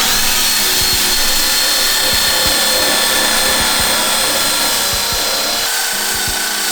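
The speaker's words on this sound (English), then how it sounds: "Just gonna wire wheel it out." A power-tool wire wheel grinds rust off the front end of a Nissan Silvia, a loud continuous abrasive whir with scraping bursts and small knocks as the brush works the metal, close up with no talk.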